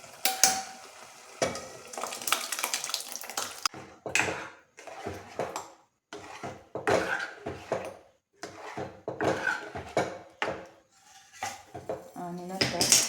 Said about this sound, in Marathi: आता ह्याच्यामध्ये आपण मॅश केलेल्या भाज्या टाकून देऊ.